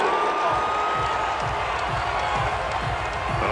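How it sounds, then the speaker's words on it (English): A stadium crowd in the Madden 22 football video game reacts to a penalty call with a steady roar and scattered cheering, even and loud throughout, under a rhythmic low thumping. "Well, this crowd does not like that call."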